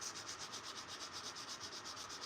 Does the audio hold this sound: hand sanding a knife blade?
yes